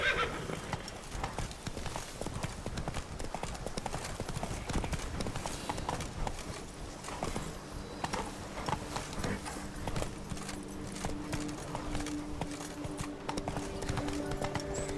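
A horse gallops in The Witcher 3 video game with fast, steady clip-clopping hooves close by, a neigh heard along the way and a low background hum over the run.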